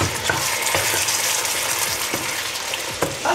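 Oxtail sauce sizzles steadily while frying in a pot, with repeated scraping stirs breaking through the constant crackle and no talk over it.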